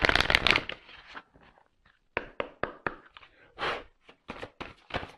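Tarot cards handled and shuffled during a reading: a dense riffling burst at the start, then a series of crisp separate slaps and flicks with short pauses, close and without talk.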